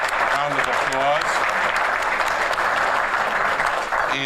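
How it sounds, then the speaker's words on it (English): Audience applause at a community business breakfast, a loud, close, steady burst of clapping with voices mixed in underneath. "So let's give her a great round of applause"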